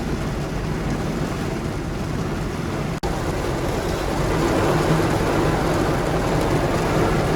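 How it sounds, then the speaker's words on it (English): Heavy rain pours down on the Magic Kingdom parking lot in a dense, steady hiss of drops hitting the ground. It runs loud and unbroken throughout, broken only by a brief cut partway through, with no one speaking. "Those poor people out there are getting soaked."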